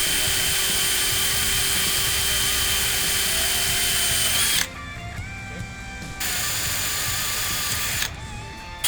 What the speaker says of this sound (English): now he's going to drill all 4 of these holes himself